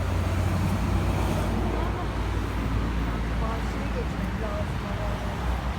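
A bus moves through steady street traffic in Rize, set in a continuous roar of road noise with engine rumble and passing vehicles, and people talk nearby.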